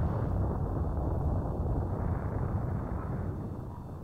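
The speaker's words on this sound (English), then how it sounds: "So yeah, now the entire planet explodes." A 16-bit planet explosion in the video game Super Metroid rumbles as a loud, continuous low roar, dense and unbroken, easing slightly toward the end.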